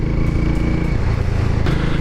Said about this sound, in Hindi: I was not expecting this kind of sound from this motorcycle, दो it is a single cylinder